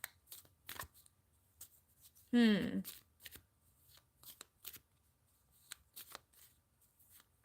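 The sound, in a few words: tarot cards being shuffled and pulled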